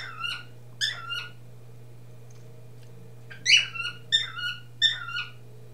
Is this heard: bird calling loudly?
yes